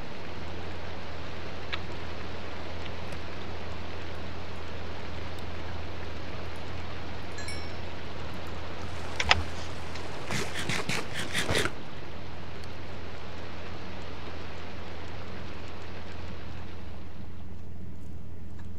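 Rain falling in Minecraft survival gameplay, a steady soft hiss throughout with a brief burst of clicks and scraping partway through, fading quieter toward the end.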